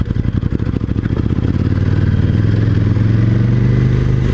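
A 2018 KTM 1290 Super Duke motorcycle engine braking, a loud close V-twin burble that drones and pops steadily as revs fall, with wind and rattling clatter throughout.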